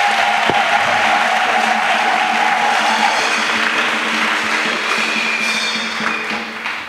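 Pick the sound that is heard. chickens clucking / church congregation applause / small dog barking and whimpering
church congregation applause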